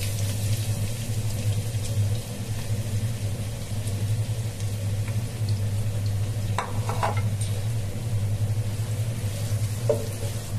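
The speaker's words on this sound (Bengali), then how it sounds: "তেলটা গরম হয়ে গেছে আমি পেঁয়াজটা দিয়ে দিই।" Onions fry in hot oil for tehari, producing a continuous sizzle over a steady low hum, with a few brief clatters of stirring near the end.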